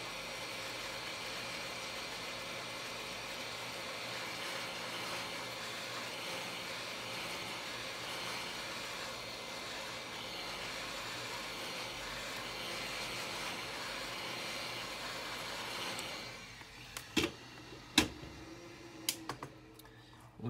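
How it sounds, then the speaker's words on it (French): Hair dryer or heat gun gently warming the sides of an Asus Zenfone 3 battery during a screen replacement, a steady faint airy whir running for about sixteen seconds before it cuts off, followed by a few light clicks. "on va chauffer très légèrement sur les côtés à l'aide d'un sèche-cheveux ou un décapeur thermique"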